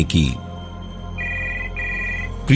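A telephone rings with two electronic tones in a row between bits of speech, clear and close.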